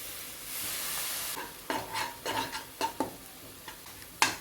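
Pork being stirred and fried in a pan, with a soft sizzle under repeated scraping and clattering strokes of a spatula against the pan, fairly close and irregular.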